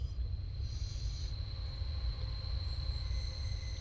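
Train running in Train Simulator 2019 on the Plymouth to Penzance line, a steady low rolling rumble with a faint high whine, no talk.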